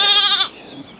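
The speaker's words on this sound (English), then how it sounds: "Bye, little goats." Small goats, including a little black one, at a farm in Cuyahoga Valley National Park give a loud, close bleat lasting about half a second, followed by quieter background sounds.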